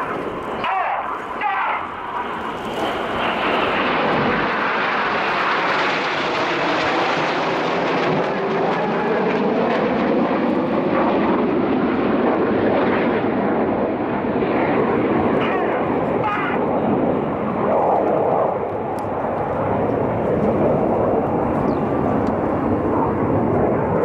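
RAF Red Arrows jets fly a formation display at RIAT 2014 with a loud, sustained jet roar that swells and sweeps past and keeps rumbling for over twenty seconds, while a commentator speaks over it.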